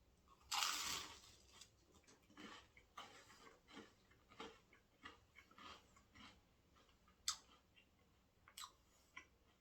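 Quiet, close crunching and chewing of crispy homemade garlic bread, with an irregular run of small crackly bites.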